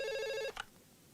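A telephone rings once indoors with a bright, tonal electronic bell tone lasting about half a second, then cuts off abruptly into quiet.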